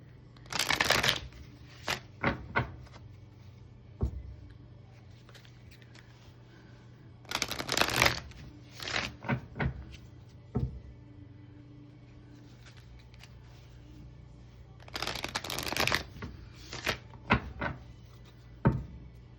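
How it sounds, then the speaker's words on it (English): A deck of advice cards is shuffled by hand in three separate bursts of crisp riffling, each followed by light taps and card handling in a quiet room. "I'm going to pull a couple advice cards here from the Clarifying Life Situations deck."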